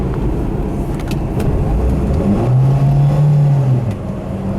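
A 1985 Mercury Lynx hatchback with a 1.9L four-cylinder accelerates hard on a road test drive, its engine droning loud and steady from inside the cabin, the pitch rising as the revs climb with no one speaking.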